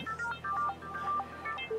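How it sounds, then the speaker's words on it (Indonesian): Telephone ringing, a close electronic ringtone of repeated melodic tonal beeps in a quick rhythmic pattern, heard alone. "Ntar ada telepon."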